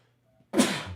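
A single sharp, loud sneeze bursts out after a quiet moment, its noisy burst trailing off over half a second.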